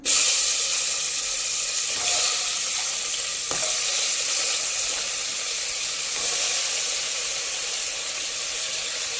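Pieces of goat head sizzle steadily in a hot pan of curry masala, a dense continuous hiss of frying broken by a few stirring knocks against the pan.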